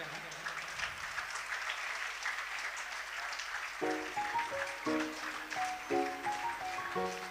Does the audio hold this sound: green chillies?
no